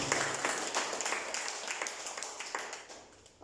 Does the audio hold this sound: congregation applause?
yes